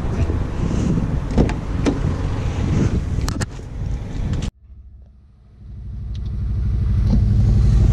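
A Subaru car with a dead battery, jump-started from a spare, cranks and catches after a loud, windy outdoor stretch; the engine then settles into a steady idle rumble that builds slightly in loudness.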